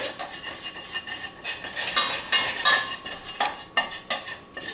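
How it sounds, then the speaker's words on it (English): A utensil clinks and scrapes repeatedly against a bowl while flour is stirred into a mixture, the strokes landing in an uneven, busy rhythm at close range with no talking. "Get those two all mixed together."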